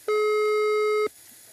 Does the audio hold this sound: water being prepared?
no